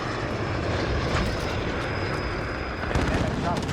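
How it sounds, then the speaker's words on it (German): An allied drone flies over in a Call of Duty match, a steady loud aircraft-engine drone with a thin high whine that cuts off near the end, under a radio-style voice. "Verbündete Drohne in der Luft."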